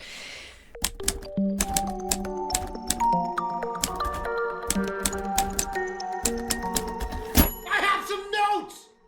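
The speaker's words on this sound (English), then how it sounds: "I was thinking a typewriter." A typewriter clacks in irregular bursts of sharp key strikes, with resonant ringing tones between hits and a busier flurry near the end.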